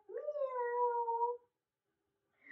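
A person imitates a cat's meow in a single drawn-out, clear tone during a kids' yoga cat stretch. It is followed by silence and the start of another short sound.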